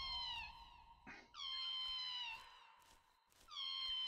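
Screeching cry of an eagle in the horror video game We Harvest Shadows: three loud, high, wavering screeches with falling pitch, separated by short gaps, heard on their own.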